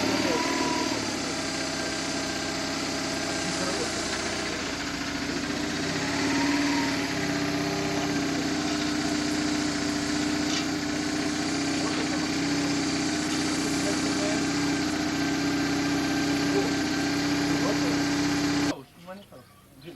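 A two-cylinder motorcycle engine idles after starting on the starter, a steady, fairly close hum with a low drone running underneath, ending abruptly near the end.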